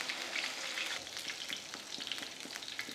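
Green chillies and mustard seeds sizzle in hot oil with a steady, bright crackle and scattered pops, close and continuous with no voices.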